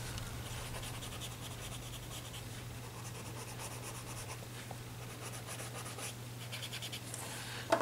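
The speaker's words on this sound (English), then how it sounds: "If you need more coloring in there, then you can always add some more with your graphite pen" A graphite pen scratches steadily over paper, shading in short repeated strokes that come close and fairly quiet over a low constant hum.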